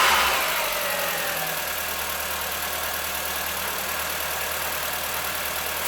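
A car engine, on a car with secondary air pump, SAI, N80, N112 and canister parts, starts with a brief surge and then settles into a steady, close, fairly loud idle with no talking.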